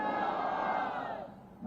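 Political rally crowd for the Congress party shouting a slogan together, a loud massed roar of voices that holds for about a second and then fades.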